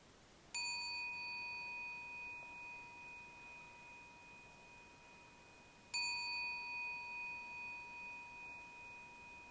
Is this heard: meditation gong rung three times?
yes